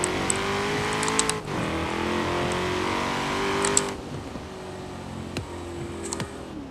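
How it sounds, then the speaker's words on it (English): A 2016 Ford Shelby GT350R revs high then winds down, its exhaust loud and close with a steady engine drone and a few sharp pops toward the end. "you let off of it and just let it rev down, once it gets at like 6K, it starts popping"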